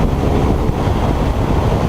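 Heavy, steady wind roar buffets the microphone on a BMW R 1200 RS sport motorcycle during a quick overtake on a country road. It is loud and continuous, and no one speaks.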